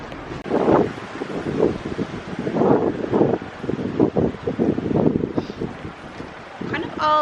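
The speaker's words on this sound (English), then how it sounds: "It's like super windy" Strong gusts of wind batter the microphone at a beach, coming in heavy rumbling bursts and lulls throughout, with a faint voice in the background.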